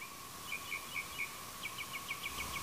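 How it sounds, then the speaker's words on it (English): Chorus of cicadas droning as a constant high, even whine, with a bird repeatedly chirping in short bursts over it, faint and distant. "80 billion insects called cicadas"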